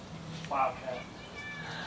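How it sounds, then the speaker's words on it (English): A house cat gives a short, fairly faint meow, followed by a softer second chirp, over a steady indoor hum. "Wow, cat."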